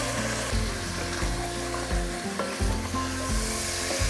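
Whisked yogurt hits a hot pan of lamb rogan josh, giving a loud, steady sizzle and frying crackle with stirring scrapes throughout, close and without talk.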